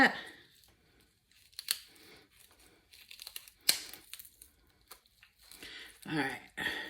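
Kitchen scissors snip and crunch through bone on a raw turkey in a series of sharp, uneven cuts, with some crinkling in between and a voice talking quietly at times.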